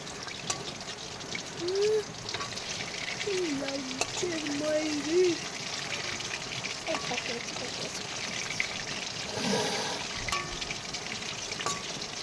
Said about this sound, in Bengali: এখানে ভাজা হচ্ছে আর প্লেট এখানে রেডি